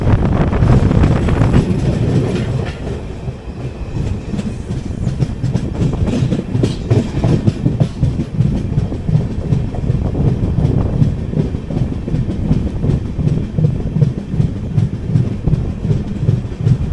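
Hubballi–Kochuveli Weekly Express 12777 rolls into Ranibennur station, heard from inside an AC Economy coach: a loud, continuous rail rumble with rhythmic clickety-clack of wheels over joints and some wind buffeting.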